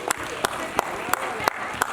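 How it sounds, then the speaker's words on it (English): At a school workshop event, an audience claps in slow unison, six sharp, evenly spaced beats over a low murmur of room noise. "please clap for them."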